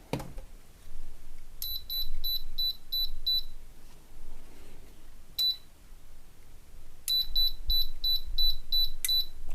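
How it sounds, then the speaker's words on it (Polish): A Kuppersbusch kitchen range hood under repair gives out sharp electronic beeps in quick repeated runs, with a pause between the groups of beeps and faint clicks in the background. "O, pik, pika coś."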